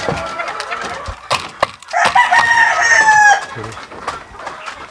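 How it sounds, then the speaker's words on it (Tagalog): A Boston Roundhead broodcock rooster crows loudly and close by, mixed with sharp clucks and other fowl calls around a poultry pen, with brief voices in the background. "Ito po yung ating broodcock na Boston Roundhead."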